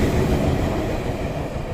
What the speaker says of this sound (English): Shinkansen way in the distance